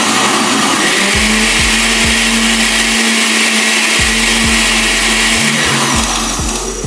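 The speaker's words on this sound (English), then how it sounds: "I just want to blend it up a little bit more" A countertop blender whirs through a strawberry lemonade banana smoothie in a kitchen, loud and close, its motor pulsing on and off several times in quick bursts under a steady high roar.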